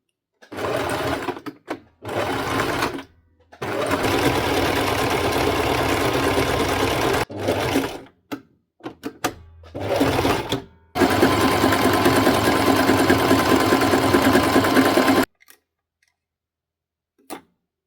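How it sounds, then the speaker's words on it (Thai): A sewing machine stitching jacket fabric, loud close bursts of rapid whirring stitching broken by short pauses and one long continuous run before it stops. "เดี๋ยวเราจะมาเริ่มเย็บกันเลยค่ะ"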